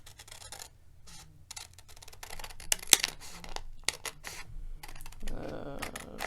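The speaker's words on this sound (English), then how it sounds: "we take our scissors, we cut out the turkey, right?" Quiet, close clicks and snips of scissors cutting a paper turkey shape, with small rustles and a louder crinkling burst near the end.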